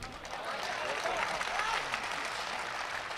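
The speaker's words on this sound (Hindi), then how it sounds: "आपने ताली बजा दी" Audience clapping during a Hindi poetry recital, a steady wash of applause from a large crowd across the whole stretch, with some voices blended underneath.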